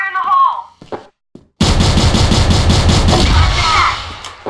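Loud burst of video game gunfire with a shotgun blasting amid dense, continuous combat noise and repeated shots, after a brief voice and a short pause.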